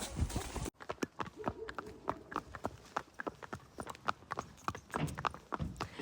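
Horse hooves clip-clopping steadily during a ride on rough ground, close and fairly loud, a continuous rhythm of sharp hoof strikes with faint background noise and no clear speech.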